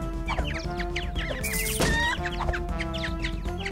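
Chickens cluck in rapid, overlapping calls in the video game Rotastic, set over a bright looping game music track, with a short crash-like burst partway through.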